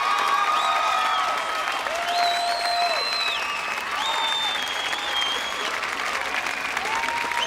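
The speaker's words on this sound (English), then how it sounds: "A round of applause for our 4 Grand Championship contenders." A studio crowd at a televised American Gladiators grand championship applauds loudly and continuously, with synth music tones layered over the steady clapping.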